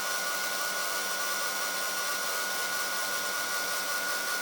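A heat embossing tool blows hot air steadily over embossing powder on a postcard, a continuous loud whooshing hiss that stays at the same level throughout.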